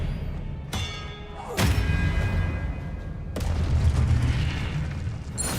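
Spells cast in Hogwarts Legacy: three sharp magical blasts, the explosive Confringo fire spell and the Expelliarmus disarming charm, each a sudden loud burst with a ringing tail over a low rumbling game background, no voices.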